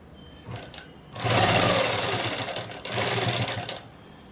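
A sewing machine runs a straight seam on a French cut dress in two loud, rapid stitching bursts separated by a brief pause, with a few soft handling clicks before the first burst.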